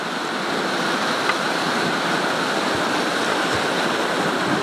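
The Bout du Monde waterfall roars in a dense, unbroken rush of falling water that stays loud and steady throughout, with no voices.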